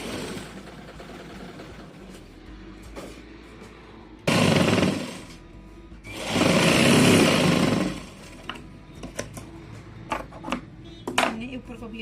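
A sewing machine stitching blouse fabric runs in two loud, steady bursts of a few seconds each, with quieter handling clatter and a voice speaking in between.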